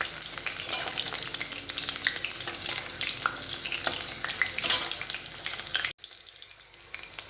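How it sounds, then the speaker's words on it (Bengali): Chicken pakoras sizzle and crackle in hot frying oil, a continuous close hiss with occasional stirring, cutting out abruptly near the end. "একটু ভালো করে ভেজে নিই, তারপর তুলে নেব।"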